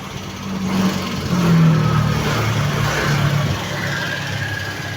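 A freshly overhauled Yamaha Mio 125 scooter engine runs steadily close by, its low hum swelling briefly as if lightly revved before settling back, with no talking.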